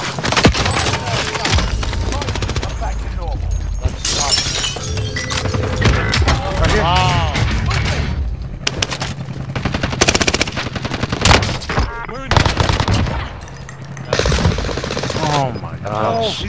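Rapid gunfire from a first-person shooter video game, with repeated loud bursts and single shots close and dense throughout, while players shout excitedly over the shooting.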